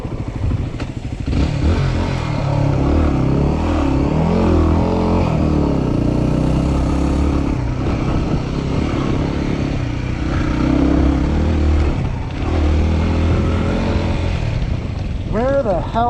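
A dual sport dirt bike engine runs and revs steadily on a trail, loud and close with shifting pitch, rattling clatter and occasional wind buffeting throughout.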